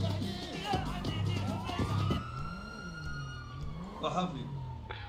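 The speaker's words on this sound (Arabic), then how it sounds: "بوليس بوليس" A police siren in the video game GTA V wails in a long rising and falling sweep over game sounds, with people talking over it early on.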